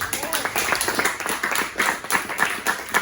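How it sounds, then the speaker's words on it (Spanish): A church congregation claps hands together in rhythm during a Spanish-language service, a steady run of sharp claps filling the room while voices sound beneath it. "Dele palmas al Señor."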